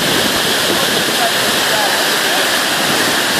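A steady, loud roar of rushing water from the El Limón waterfall in Samaná, Dominican Republic, fills the air, close and constant, with no pauses.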